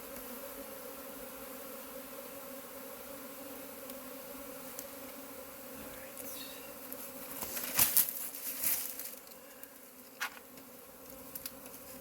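Honey bees buzz at a hive during queen rearing, a steady dense hum throughout, with brief louder rustling and wingbeat bursts near the middle and no one talking.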